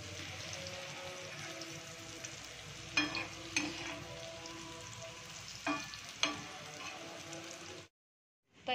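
Slices of alu vadi frying in oil, a steady crackling sizzle with several louder bubbling and turning bursts before it cuts to silence.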